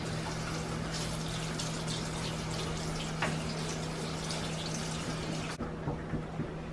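Tap water streams steadily over hot lasagna noodles, a close, continuous rushing wash that cuts off abruptly near the end, leaving a quieter background.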